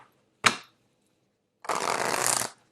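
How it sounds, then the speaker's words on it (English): A quick tarot card snap, a pause, then a sustained riffling shuffle of tarot cards for about a second, close and clear. "Let me get the cards shuffled out."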